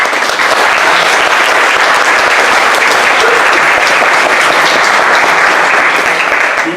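Big steady round of applause from an audience welcoming a guest at a panel discussion, loud and sustained throughout without letting up.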